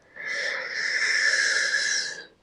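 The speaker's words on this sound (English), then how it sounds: "Breathing," A single long breath, a drawn-out airy wheeze lasting about two seconds with a soft onset and fade, close and alone, taken during a Kundalini-inspired somatic movement practice.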